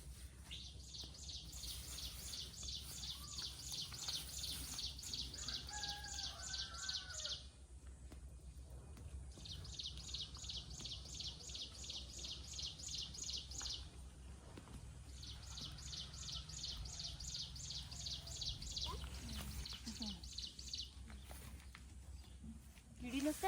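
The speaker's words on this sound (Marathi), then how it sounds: "पक्ष्यांचा आवाज" Bursts of rapid, high-pitched bird chirping repeat in long trills with pauses between, fairly faint, over a low hum and occasional distant voices, in village fields with grass.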